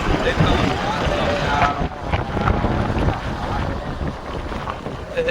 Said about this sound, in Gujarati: આજે પવન ઓછું થયું નથી, હજી પવન છે.